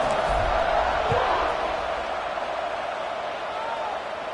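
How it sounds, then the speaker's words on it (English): A college football stadium crowd at kickoff in a video game, a loud steady roar of cheering that fades slightly, with a few thumps early on. "this crowd now ready to get behind them"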